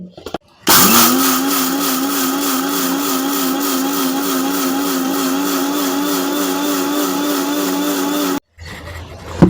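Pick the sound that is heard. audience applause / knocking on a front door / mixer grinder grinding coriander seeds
mixer grinder grinding coriander seeds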